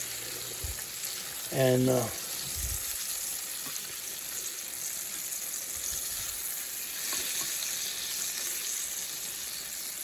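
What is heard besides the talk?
searing meat in a pan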